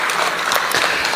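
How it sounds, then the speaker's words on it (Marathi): An audience at a Marathi talk on ideal parenting breaks into applause, a dense, loud and continuous clatter of many hands clapping at once, with no speech over it. "आपणही टाळ्या वाजवून त्यांचं कौतुक करावं"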